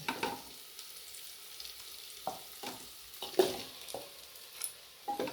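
Chicken pieces for a chicken curry fry in spices in a pan, with a steady sizzle under repeated stirring and scraping strokes, moderately close and fairly quiet.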